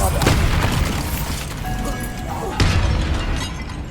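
Bombarda blasting spell in Hogwarts Legacy, two heavy booming explosions with crumbling debris, the second blast near the end, heard under a short spoken spell name.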